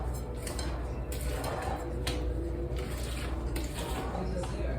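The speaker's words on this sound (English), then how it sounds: "I'm gonna mix that in there" Sugar being mixed into a bowl of vanilla cookie dough in a kitchen gives a steady scraping, rustling churn with occasional light clinks against the bowl, continuous throughout.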